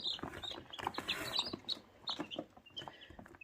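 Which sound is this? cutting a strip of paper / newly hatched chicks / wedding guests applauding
newly hatched chicks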